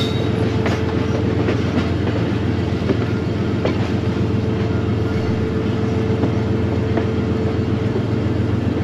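Steady rumble of a moving passenger train pulled by a diesel locomotive on the single-line Lahore to Rawalpindi route, droning engine tone and faint rhythmic clacks of wheels on rails, loud and continuous, no voices.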